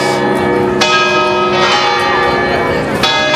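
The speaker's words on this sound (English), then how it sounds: "You can hear right now these bells are going on. There are 7 bells." A set of seven church bells ringing at the Leaning Tower of Pisa, loud, rich and sustained, with repeated strikes layering into a continuous clangorous wash close to the listener, with a voice faintly beneath.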